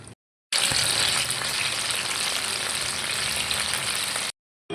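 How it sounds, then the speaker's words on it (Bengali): Chicken satay sticks fry in hot oil in a pan, a loud, steady close sizzle that starts abruptly, holds for about four seconds, then cuts off. "এইভাবে আমি সবগুলো ফ্রাই করে নেব।"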